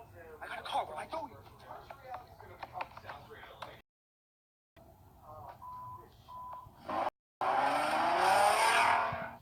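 A car in the video game Friday the 13th drives and skids with a rising engine roar and tire squeal, while a person talks over it; a brief silent gap comes midway.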